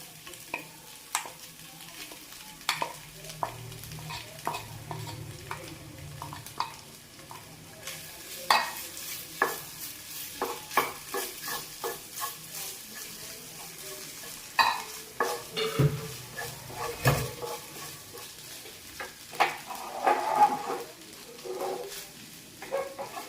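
Mashed potato being stirred into a frying chicken cutlet mixture in a pan, with repeated scraping spoon strokes and clinks over a soft continuous sizzle that grows busier partway through.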